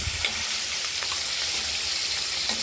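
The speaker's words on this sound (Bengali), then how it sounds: "আর এগুলোকে আমরা কড়াইতে তেলে আমরা ভেজে নিচ্ছি।" Cleaned, cut koi fish fry in hot oil in a wok, giving a dense, continuous close-up sizzle and crackle with faint stirring scrapes and no talk.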